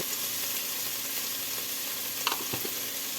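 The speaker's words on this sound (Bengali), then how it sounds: "এগুলোর মধ্যে সামান্য একটু হলুদ দিয়ে হালকা করে ভেজে নেব" Soaked mixed vegetables fry with turmeric in a pan, a dense, even sizzle of hot oil with a couple of brief scraping clicks near the end.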